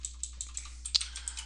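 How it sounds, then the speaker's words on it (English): Computer keyboard typing at a desk, a sparse run of light key clicks spaced unevenly, one sharper tap standing out, quiet and close over a faint steady hum. "My keyboard is acting strange"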